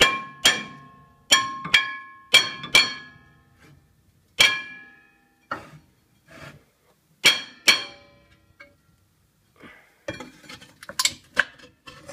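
Sharp metallic clangs as a hammer strikes a rear brake rotor on a 2002-03 Acura TL Type S, irregular strikes with ringing decay, some in quick pairs, followed by softer clatter and scraping.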